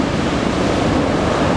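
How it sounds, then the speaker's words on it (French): Ocean surf on the beach at Anglet, a steady broadband wash of breaking waves mixed with wind noise, loud and continuous, with no voices. "il y a quand même des vagues qui passent"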